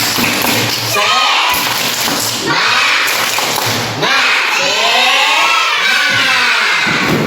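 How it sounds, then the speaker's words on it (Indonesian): Schoolchildren in an Indonesian classroom chanting and clapping a rhythmic spirit clap routine as an icebreaker, loud young voices in a sing-song cadence with claps in between, close and filling the room. "Nah, caranya kita tepuk semangat"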